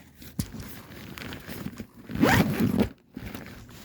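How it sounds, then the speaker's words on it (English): A zipper pulled closed on the storage bag of an inflatable dancing Christmas tree, a close, quick rasping zip rising to a brief loud burst near the end, with light handling rustles around it. "That goes back in, you zip it up"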